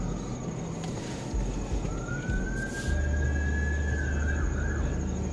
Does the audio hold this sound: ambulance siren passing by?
yes